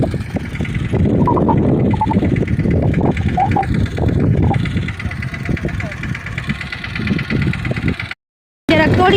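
A tractor engine runs with a steady, rough low rumble throughout, while voices talk over it before it briefly cuts out near the end.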